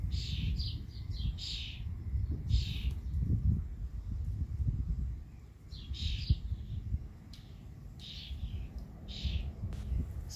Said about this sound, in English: two of the birds are sat right next to the bird feeder